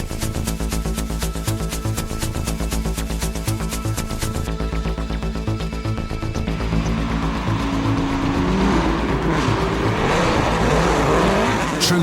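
A rally car attacks a forest stage in the moorland fringes of the Brecon Beacons, its engine loud and close with rhythmic harmonic revving, then rising into a harsher, broader roar with gravel and tyre noise.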